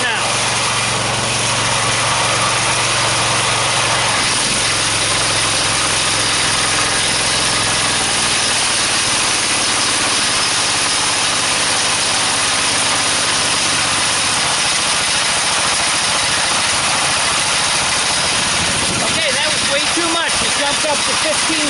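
A small engine-driven DC generator drops to a steady idle after running harder, its close, continuous hum and high whine sitting loudly over the whole stretch with a faint voice in the background.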